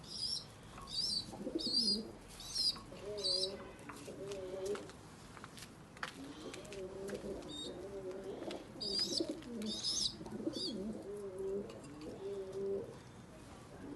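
Pigeons, including young birds from Northern Iraq, coo repeatedly in soft rolling phrases, with high chirps and faint background noise around them.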